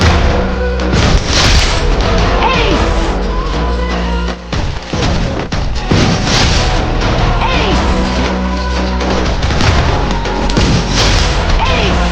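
Booming grenade blasts and crashing impacts from the Counter-Strike video game come loud and dense, layered with gunfire and chaotic game noise, with a voice talking underneath.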